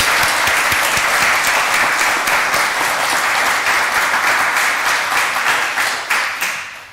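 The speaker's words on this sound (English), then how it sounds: "Let's have one more round of applause for Debbie and Joanne." Sustained applause from an in-person audience at a live interfaith community gathering, dense steady clapping that holds throughout and begins fading near the end.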